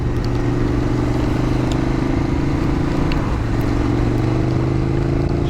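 KTM 1290 GT motorcycle ridden at steady speed in wet, rainy conditions, its engine droning continuously and loudly up close with a constant low hum and wind-and-road noise throughout.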